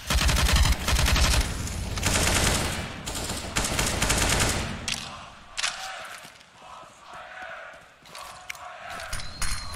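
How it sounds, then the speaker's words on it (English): Gunfire from a Counter-Strike professional match, the Astralis vs ENCE grand final at IEM Katowice 2019, fired through smoke: dense volleys of shots and rattling bursts, loud at first and thinning into scattered, sharper reports and mechanical clicks. "Firing through smokes even."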